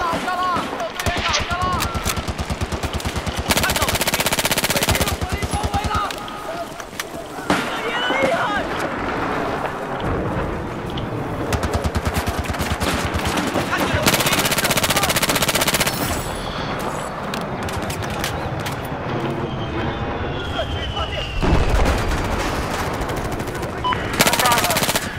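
Bursts of rapid automatic gunfire in Battlefield 4 come in repeated loud volleys, interspersed with excited talking and shouting between them.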